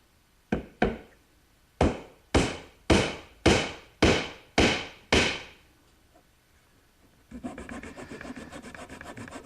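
A glued wooden dowel pin is hammered into a hole in a wooden porch swing, nine sharp, close strikes in a steady rhythm, followed by a rough rasping scrape.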